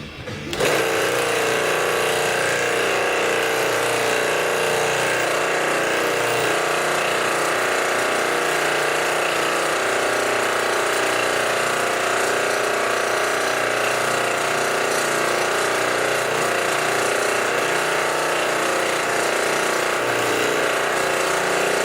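A trace-a-punch machine punching sheet metal, a loud continuous mechanical chatter that starts abruptly and runs steadily without pause, close up and with no voices.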